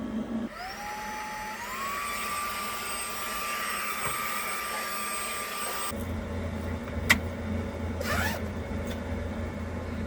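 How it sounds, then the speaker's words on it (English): An Aerovac cordless USB-charged vacuum cleaner runs inside a camper van with a steady high whine that climbs in pitch, then cuts to a lower hum, with a couple of brief clunks from the nozzle being moved around. "I think I'm going to test out my vacuum in here"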